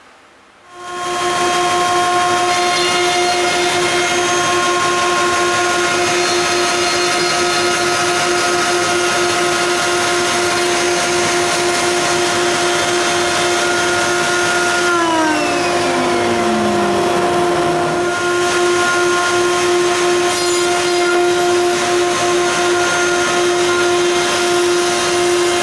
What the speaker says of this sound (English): So I'm going to go ahead and do this and route these grooves that we've marked out.